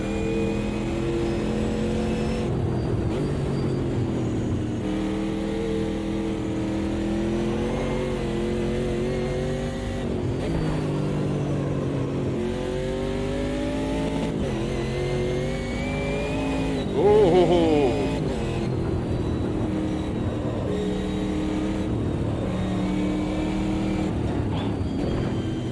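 A race car on the Nordschleife in the Automobilista 2 video game, engine droning loudly and continuously as it shifts through gears, with exhaust burble on lift-off.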